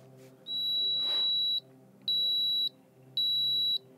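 A marina electrical tester sounds its ground fault alarm, a piercing high electronic beep repeated three times in long pulses with short gaps, close and steady over faint background hum.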